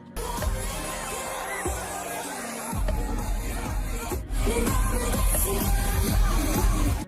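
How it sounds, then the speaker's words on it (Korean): A concert audience sings along to K-pop lyrics in Korean, a loud wash of crowd voices over the music that swells partway through and stays full to the end. "이러한 무대를 관람하고 있는 사람들은 익숙하다는 듯이 한국어로 가사를 따라 불렀습니다"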